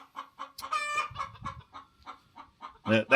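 Hens clucking inside a chicken coop on a homestead, a run of short repeated clucks and calls with a louder burst of squawking near the end, close by and with no talk.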